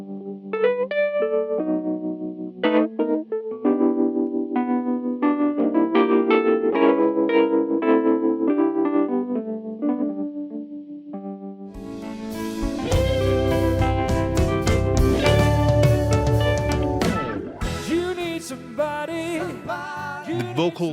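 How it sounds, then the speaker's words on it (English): Wurlitzer electric piano chords ring out through a miked guitar cabinet speaker, first sparse and clean, then joined by fuller band accompaniment with drums partway through. "We are miking up the Wurlitzer on the guitar cabinet"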